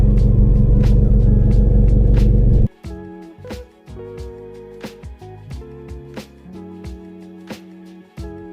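A car pulls away from the bay ahead at a car wash: a loud, steady engine rumble for a couple of seconds cuts off, leaving quieter scattered clicks and knocks.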